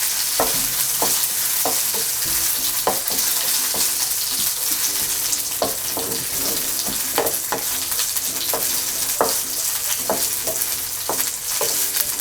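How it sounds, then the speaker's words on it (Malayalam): Ginger, garlic and green chillies sauté in a pan for a Kuttanadan egg curry, a steady loud sizzle broken by repeated spatula scrapes and taps throughout, with no voices. "നമുക്ക് ആവശ്യമുള്ള പോലെ നമുക്ക് വെളുത്തുള്ളിയും ഇഞ്ചിയും വഴന്ന് വന്നിട്ടുണ്ട്"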